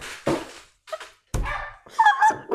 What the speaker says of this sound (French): le chien